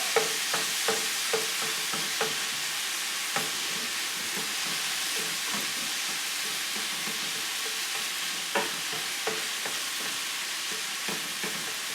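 Meat hot sauce for a Rochester garbage plate frying steadily in a greasy pan, a continuous sizzle broken by occasional clicks and scrapes of stirring, close and alone without talk.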